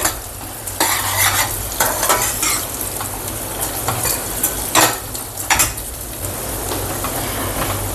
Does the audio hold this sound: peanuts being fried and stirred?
yes